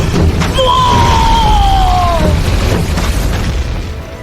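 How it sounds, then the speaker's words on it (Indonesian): A huge explosion in an anime fight erupts as a loud, sustained roar with rising shrieking tones, filling the whole stretch without speech. "Terjadi sebuah ledakan yang sangat besar."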